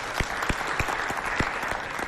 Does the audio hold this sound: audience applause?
yes